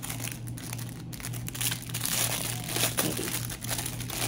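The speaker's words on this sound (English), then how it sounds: "let me open it before I keep talking over the crinkling" Crinkly plastic packaging of a cat toy mouse is handled and opened up close, with continuous crackling and crumpling, and a brief spoken word partway through.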